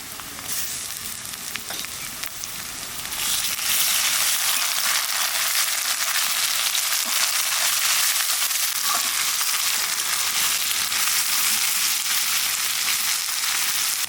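Onion and spices frying in oil for a rich, oily fish curry, a loud continuous sizzle that starts softer and jumps sharply in level a few seconds in, then holds steady with crackling texture and no talk.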